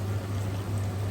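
Water is poured into a cooking pot while preparing tender meat in sauce, a steady close splashing stream over a low constant hum, lasting about a second with no speech.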